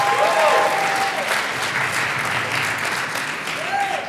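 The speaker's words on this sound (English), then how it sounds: "Let's give them a big round of applause." Audience at a high school Shakespeare monologue competition applauds the actors, a steady dense wash of clapping throughout, with faint voices briefly rising above it.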